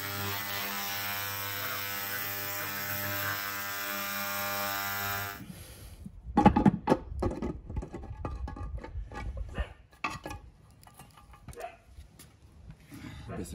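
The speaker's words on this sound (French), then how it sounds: "on va nettoyer les injecteurs aux ultrasons" A heated ultrasonic cleaner set to 80 degrees cleans fuel injectors from a Porsche 924 Turbo, giving a steady electric hum that stops abruptly, followed by clattering and handling noises.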